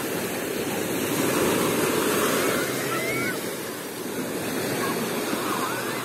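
Surf rolling onto a Sea of Azov beach at Golubitskaya in the evening as the waves pick up, a steady broadband wash of breaking water with faint bird-like calls drifting over it.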